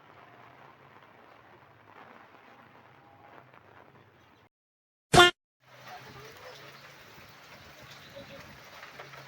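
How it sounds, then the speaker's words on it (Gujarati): Steady rain hisses across the clip during a monsoon downpour, broken by a short silence and one sharp click before the soft rainfall resumes. "અહીં તો જો મિત્રો વરસાદ છે."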